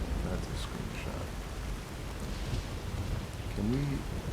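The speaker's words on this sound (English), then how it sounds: "Can we seriously do something about this rain?" Rain in the video game Fallout New Vegas, a steady, fairly quiet wash of falling rain with faint low rumbles, and a short voice-like sound near the end.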